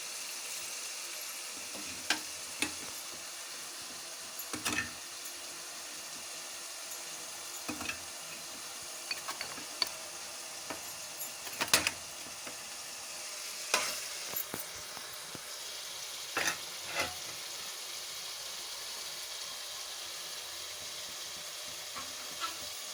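Raw prawns frying in a pan with pieces of drumstick, a steady close sizzle with intermittent scrapes and stirring clatter, no voices.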